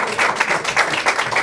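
Gratitude applause from an audience at a church reflection panel, a steady wash of many hands clapping with faint rhythmic pulses, sustained and fairly loud throughout.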